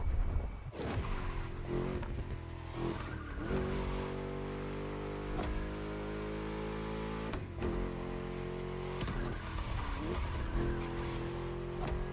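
V8 engine of a car in The Crew Motorfest video game, a deep growl that climbs in pitch through several gear shifts with brief whooshes between, sustained and close.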